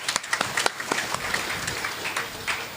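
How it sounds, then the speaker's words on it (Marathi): An audience at a religious satsang gathering breaks into applause, a dense run of hand claps that starts sharp and tapers into a steady patter. "वाजवाल का त्यांच्या नावाने टाळ्या?"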